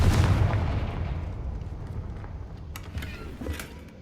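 Confringo spell explosion in Hogwarts Legacy, a heavy booming burst at the start that rolls into a long fading rumble, followed by a few faint crackles and debris-like clicks, with no speech.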